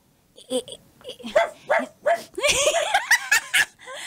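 A dog barks and yips in a string of sharp, close barks, growing more rapid toward the end.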